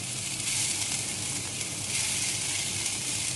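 Chopped onion sizzles in half a spoon of ghee in a pan, producing a dense, steady, close frying hiss that runs unbroken from start to finish without any voices.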